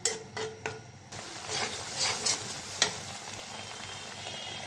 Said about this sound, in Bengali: কড়াইটা বসাই দিলাম, মশলাটা কষাই নিই।